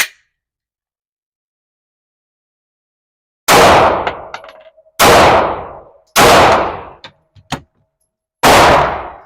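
Gunfire at a shooting range: after a few seconds of silence, four loud, sharp shots ring out at uneven intervals, each trailing off in a short echo, with small clinks between them.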